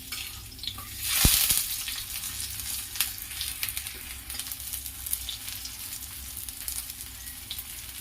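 Steady sizzling of food frying in oil in a frying pan over a gas flame turned down to low, with a brief louder clatter early on and continuous crackle throughout, no voices.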